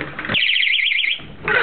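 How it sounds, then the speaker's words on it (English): A newly bought home alarm system lets out a loud, warbling electronic siren tone for about a second, rising out of background noise and then cutting off. "apparently my dad bought this new alarm system that"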